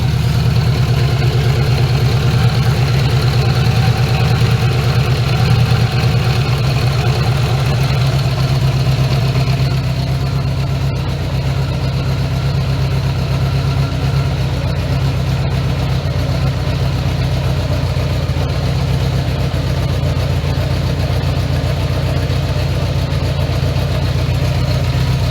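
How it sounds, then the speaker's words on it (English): A Honda Goldwing GL1100 motorcycle engine idles steadily during carburetor synchronization, a continuous low rumble holding close and loud for the whole stretch with no talk over it. "Let's try to bring the idle a little bit down."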